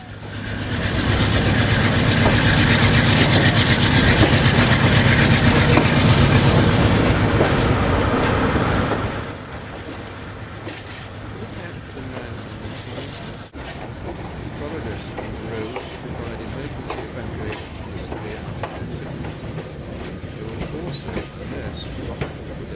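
A diesel-hauled train in Peru, one locomotive with a failed turbo and a second engine helping, rumbles along with a loud, heavy engine drone and rhythmic rail clatter, then the roar drops to a quieter steady rolling noise.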